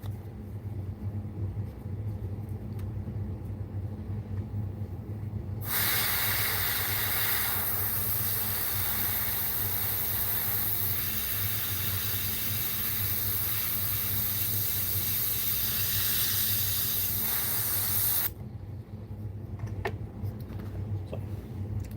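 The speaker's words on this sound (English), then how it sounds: "So I got the black in the airbrush. May as well do the fins." An airbrush sprays black paint onto the fins of a fishing lure, a loud continuous hiss that starts abruptly, runs about twelve seconds and cuts off, over a low background hum.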